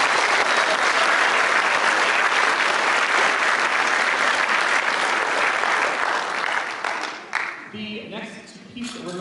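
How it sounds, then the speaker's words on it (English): Enthusiastic audience applause at a middle school winter concert fills the hall loudly and evenly, then tapers off near the end as a voice begins speaking. "So we give them a round of applause."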